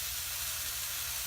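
Fatty corned beef searing in a hot pan, a steady soft sizzle and hiss with no breaks, fairly quiet and heard alone.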